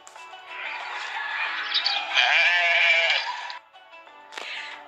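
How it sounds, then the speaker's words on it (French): Sheep bleating at an Eid al-Adha livestock market, one long wavering call up close and loud, then a brief second bleat after a short pause, no talking. "J'entends le bêlement des moutons."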